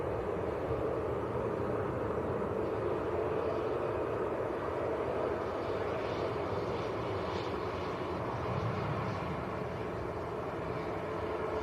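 A Ryanair Boeing 737 Max jet airliner, about a year and a half old, arriving from Limoges rumbles as a steady, broad engine roar that holds even and fairly loud throughout, with no talk.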